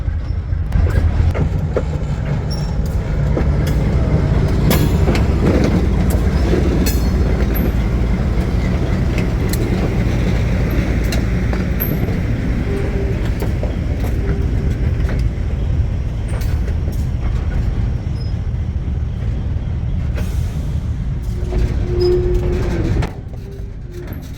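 Freight locomotive 9553 on a heritage railroad rumbles past at close range pulling empty cars out of a siding, a loud, steady roar of engine and rolling wheels with occasional metallic squeals, easing off at the end.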